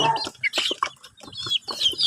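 Visayan native chickens cluck in short, irregular bursts at close range, with a few higher chirps from young birds mixed in.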